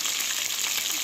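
Herring sprat fry in a pot of hot oil with a dense, steady sizzle, loud and close with no pauses.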